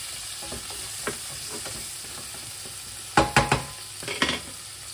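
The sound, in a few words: shallots frying in a pan with duck breast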